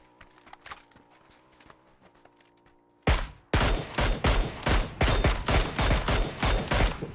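Gunfire in the PUBG battle royale game, quieter shots and ambient noise at first, then a loud close burst of rapid automatic fire in tight repeated volleys, with no talking.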